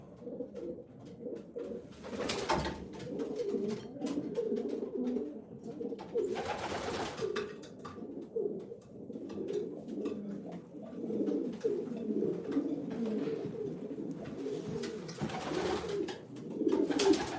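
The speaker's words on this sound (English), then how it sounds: "But no, just specifically racing pigeons here." Racing pigeons cooing in a loft at night, a continuous low burbling chorus of throaty coos close by, with a couple of sharper flutters or scuffles breaking through, no talking.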